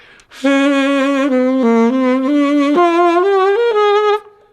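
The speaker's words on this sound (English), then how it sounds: "what is easy is to do a kind of vibration in your throat, and it sounds like this" Saxophone playing a sustained melodic line with a corny, uncontrolled throat vibrato, the pitch wobbling quickly throughout. It is loud and close, alone with no talking, and moves through several held notes over about four seconds.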